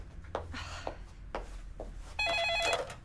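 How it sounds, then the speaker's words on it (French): A telephone ringing in a Titeuf cartoon, a bright electronic trill that cuts in near the end over soft scuffing and movement, with no one speaking. "Téléphone, chérie, tu peux répondre."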